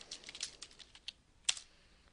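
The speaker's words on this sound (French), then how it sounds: "Je tape Louis de Funès et je tape sur la touche Entrée." Keys clatter on a computer keyboard in a quick irregular burst of soft taps, ending with a sharper, louder press of the Enter key, close and quiet with no voices.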